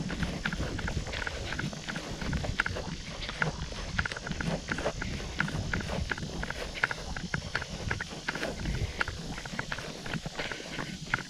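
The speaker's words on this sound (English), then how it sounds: "I would not have seen those horses today" Horses clip-clopping along near a pier on an out-and-back running route, a steady run of hoof strikes at medium distance over constant outdoor background noise.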